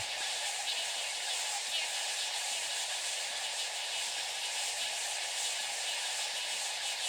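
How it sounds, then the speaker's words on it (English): Glitched sniper rifle in the video game Borderlands 2, reduced to a continuous flat hiss like static or white noise, steady and fairly faint throughout. "This almost just sounds like white noise at this point."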